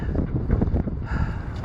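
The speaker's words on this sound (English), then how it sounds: "It's very windy" Strong wind buffets a sailboat lying at anchor in a harbor anchorage, producing a steady, loud broadband rumble and roar with gusty surges throughout.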